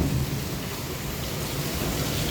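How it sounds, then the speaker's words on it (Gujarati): Heavy downpour with thunder outside a balcony, a dense, steady roar of rain filling the whole short stretch with no break or voices. "તો મિત્રો ફાઇનલી ધોધમાર વરસાદ પડ્યો છે અને આપણી બાલ્કનીમાં પાણી ઘૂસી ગયા છે."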